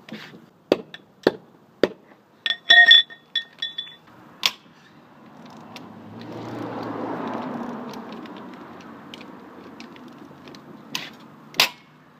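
Snap-on torque wrench on a 6-inch extension breaking loose lug nuts on a 1997 Jeep wheel: a run of sharp, close metallic clicks and cracks, then a softer drawn-out scraping rumble and a final crisp snap.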